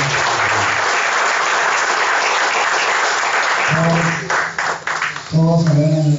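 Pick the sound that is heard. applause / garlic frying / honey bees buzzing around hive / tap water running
applause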